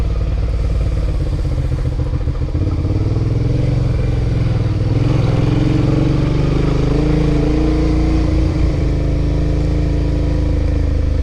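A Suzuki V-Strom 650 adventure motorcycle labors through deep silt on a Utah backcountry route, its engine droning loud and close with shifting, strained pitch and clattering throughout.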